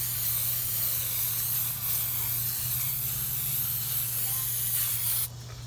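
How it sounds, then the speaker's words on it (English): A steady, close hiss of aerosol brake cleaner sprayed on a Volvo XC60 T5 engine runs almost continuously for about five seconds, then cuts off abruptly near the end. "Spray this down, clean it up fairly decent."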